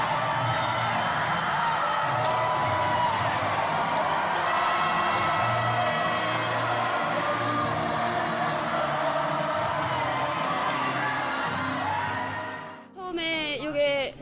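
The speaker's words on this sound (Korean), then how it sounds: "우리는 하나다라고 슬로건을 외치며 함께 환호하고 있습니다" After a hockey match lost 1–6, a large arena crowd cheers and chants a unity slogan together, a loud, sustained roar of massed voices that cuts out abruptly near the end into a brief burst of shouting.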